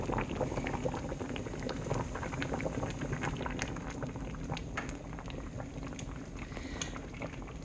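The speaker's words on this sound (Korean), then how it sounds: "원래 이렇게 보글보글하게 끓여야 깔치 맛이 납니다." Braised cutlassfish stew bubbles at a steady boil in a pot, a dense, continuous stream of close, lively popping and simmering with no voices over it.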